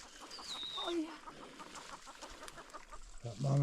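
A mother hen clucks in short, soft repeated notes near her tiny chick outdoors, with a few higher bird calls and faint background noise.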